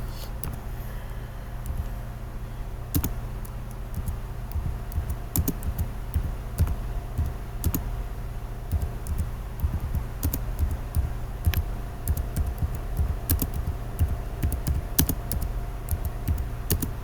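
Computer keyboard typing, a steady run of quiet key clicks with small irregular bursts over a low hum, continuing throughout.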